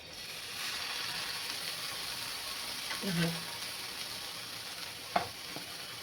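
Bread toasts on a buttered griddle with steady soft sizzling throughout, a brief scraping stir midway and a small sharp clink near the end.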